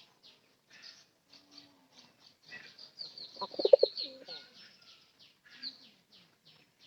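A pigeon coos softly a few times at close range, with faint chirps and light rustling around it.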